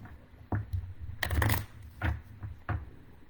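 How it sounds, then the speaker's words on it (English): Tarot cards being shuffled in a few quick riffling bursts, with the loudest rush near the middle and shorter riffles either side, close and clear with no talking. "All right, shuffling for Virgo."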